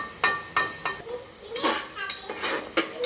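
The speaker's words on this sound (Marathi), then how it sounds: "तर आता आपण इथे टोमॅटोची प्युरी टाकून घेऊयात." Tomato puree going into a pan for pav bhaji, with sharp metallic clinks of a spoon or ladle against the cookware and some scraping and stirring, moderately close, with no talk over it.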